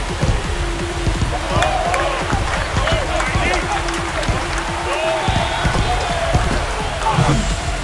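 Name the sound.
baseball home crowd cheering after a home run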